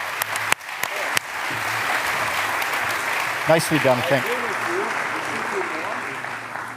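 Applause from a summit audience runs steadily throughout as a dense, even wash, with a few sharper claps at the start and a speaker's voice briefly breaking through near the middle.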